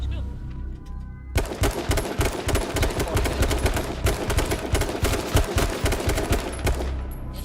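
Rapid automatic gunfire in the battle royale game H1Z1, a dense run of loud shots that begins abruptly and keeps going, with players talking over it.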